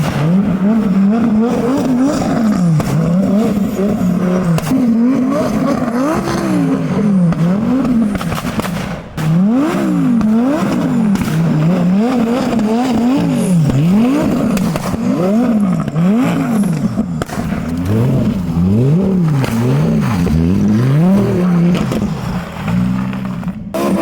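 An all-wheel drive car spins donuts on an ice-covered parking lot in Mexico, its engine revving loudly and continuously, the pitch rising and falling in rapid repeated swells, close by with no talking.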